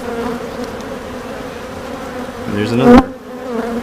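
Honeybees buzz densely and steadily at a hive in North Carolina, close and loud, with a few louder swells near the end. Someone speaks briefly over the buzzing.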